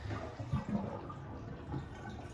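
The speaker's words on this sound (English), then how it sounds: "So I'm going to go and let the water drain out" Water drains out of a tub used for soaking bulk Lego, a steady low gurgling rush with a few deeper glugs, close and continuous, with no speech.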